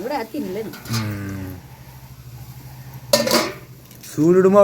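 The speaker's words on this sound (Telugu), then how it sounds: "ఇట్లా కలుపుకున్నామండి ఈ మసాలా మొత్తం పుట్టగొడుగులకి పట్టేలాగున" A utensil clinks and scrapes against a pot as mushroom curry is stirred to coat the mushrooms in masala, close and fairly loud, with voices talking over the mixing.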